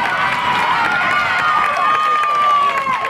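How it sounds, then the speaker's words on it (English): Fans of both teams cheer at a high school softball game, a loud, sustained crowd roar with a few shouting voices that holds steady throughout. "Both teams' fans start cheering"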